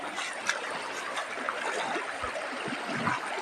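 A river flows steadily through a nature trail, a dense, even rush of water with small splashes, heard up close and alone.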